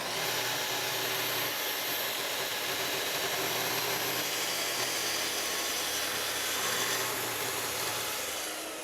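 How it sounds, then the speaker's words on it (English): A track saw plunge-cuts through MDF on a table, guided along a track squared to a fence. It gives a loud, steady, close-up whirring roar that runs unbroken for the whole stretch. "Put my layout line right there and bring up the track saw."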